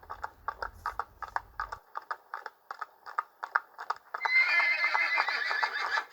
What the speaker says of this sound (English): the clip-clop horse hooves that haunt Moulton's Hill